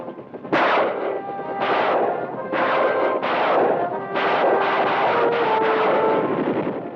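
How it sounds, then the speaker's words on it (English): Rapid bursts of heavy automatic weapons fire and rocket blasts from helicopters repeat in clusters, loud and close, with a droning helicopter rumble underneath, in the Vietnam War. "Helicopters bombarding the enemy with rockets."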